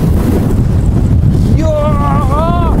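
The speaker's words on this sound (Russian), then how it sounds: "я прям не могу стоять, какой ветер" Strong winter wind on a beach at Katsiveli roars and buffets the microphone continuously, and a voice cries out loudly over it near the end.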